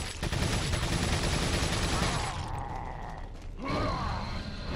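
Rapid TMP submachine-gun fire in Resident Evil 4, a sustained loud burst of shots for about two seconds, then mechanical clatter and a fainter second flurry near the end.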